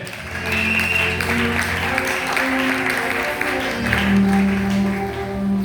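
A church congregation at a Sunday deliverance service applauds in sustained, dense clapping with crowd noise and voices mixed in throughout.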